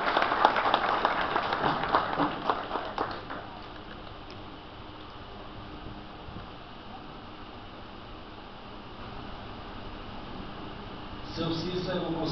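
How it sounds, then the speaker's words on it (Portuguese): An audience at a political marketing course in Bom Jesus da Lapa gives a round of applause in tribute, loud clapping for about three seconds before fading into a quieter room. "O seu Cícero, eu queria uma salva de palmas para ele."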